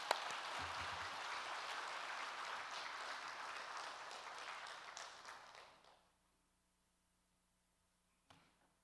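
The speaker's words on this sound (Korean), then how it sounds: "우리 박수로 축복하겠습니다." Church congregation applause during a Sunday service swells briefly, holds for several seconds, then fades to near silence, ending with one faint knock.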